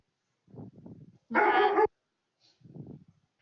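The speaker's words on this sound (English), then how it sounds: "oh, sorry, my dog is barking" A large golden doodle barks indoors in two short bursts of deep, repeated woofs, separated by a loud, harsh broadband noise in the middle, with a faint high tone just after it.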